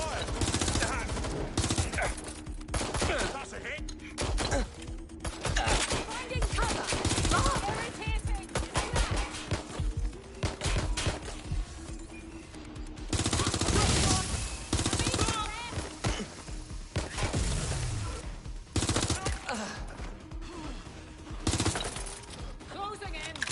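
Gunfire in the video game Watch Dogs: Legion, dense bursts of rapid automatic shots and scattered single cracks, loud and continuous throughout, with brief game voices mixed in.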